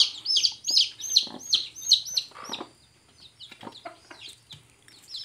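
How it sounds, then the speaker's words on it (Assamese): Newly hatched local home chicken chicks peeping, a run of high, rapid, close cheeping calls in quick bursts that thin out into softer scattered peeps. "চাওক ৰাইজ কি ধুনীয়া পোৱালি"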